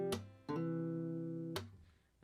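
An acoustic guitar plays the opening verse part of a song from an F over C shape, with a few plucked chords and ringing sustained notes between them, quiet and close.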